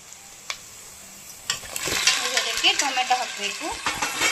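Tomatoes and onions frying in a pan for Mangalore-style clam sukka are stirred with scraping, clattering strokes over a light sizzle, while a person talks through the second half.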